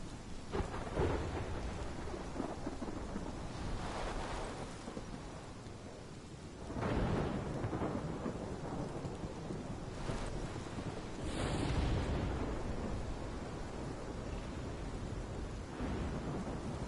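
A thunderstorm in the Life Is Strange game: steady heavy rain hisses throughout, broken by several loud thunder cracks and rolling booms at intervals, with no voices over it.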